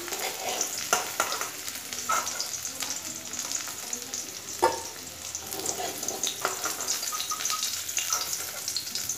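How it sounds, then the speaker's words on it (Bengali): Cauliflower frying in oil in a wok gives a steady, close sizzle with intermittent stirring scrapes and clinks throughout. No one speaks. "ফুলকপিটাকে ভালো করে ভেজে নিয়েছি, ফুলকপিটা ভাজা হয়ে গেছে।"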